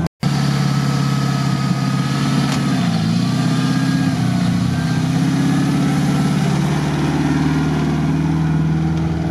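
A GAZ-67 jeep engine idles steadily up close, loud and continuous, with a slight shift in pitch partway through and no talking.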